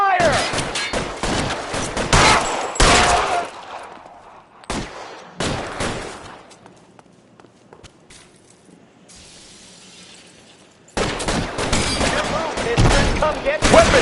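Gunfire in the video game LA Noire, with dense rapid bursts of shots, a quieter lull of several seconds, then heavy firing resumes loudly.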